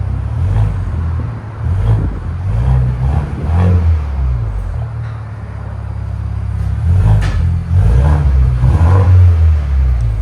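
A 2025 Ford Bronco 2.3L turbo engine revving repeatedly through an aftermarket exhaust, with deep, loud rises and falls in a series of close blips.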